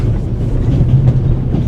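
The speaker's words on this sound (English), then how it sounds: "The noise on this train is driving me crazy." Inside a train in the video game The Raven Remastered, a loud, continuous low rumble rolls along with a faint clickety-clack of wheels on rails, steady and close, with no voices.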